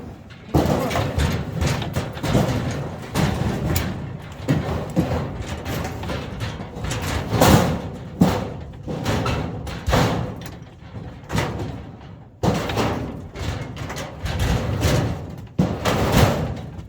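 Repeated heavy metallic thumps and clanks as bulky scrap metal cabinets are shifted and stacked, with a brief pause midway.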